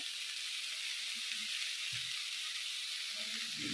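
Sweet corn usli frying in a pan with oil, a steady broadband sizzle throughout, with faint low clinks or stirring thuds near the end and no talk.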